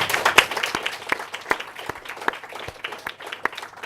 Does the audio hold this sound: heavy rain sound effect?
no